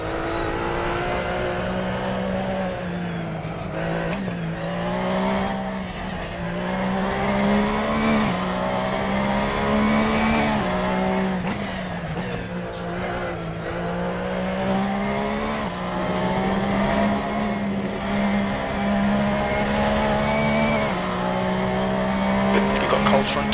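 Racing game engine drone of a GT3 car at Spa in Assetto Corsa, steady and loud throughout, with repeated brief tyre squeals as the front tyres lock under braking.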